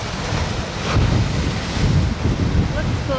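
Ocean waves crash against pointy rocks on a Hawaiian shore, a loud, steady roar of surf with wind buffeting the microphone; a person speaks briefly over it.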